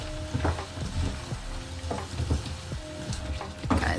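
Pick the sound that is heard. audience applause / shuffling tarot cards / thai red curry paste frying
thai red curry paste frying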